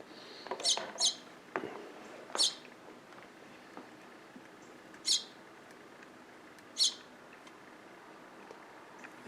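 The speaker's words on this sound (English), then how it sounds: "This is baby warbler" Baby warbler chirping, several sharp, high, thin peeps spaced irregularly over quiet indoor background, close and faint.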